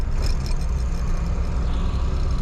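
Lada Niva engine running steadily with a low rumble, loud and close, with no clear rise and fall of throttle over the short stretch.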